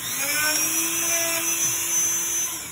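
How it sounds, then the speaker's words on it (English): A Dremel rotary tool grinds steadily on a hard sprayed bubble, giving a continuous high whine that holds even for a few seconds with no voices. "So what I usually do for those is I'll take my Dremel, just Dremel it off."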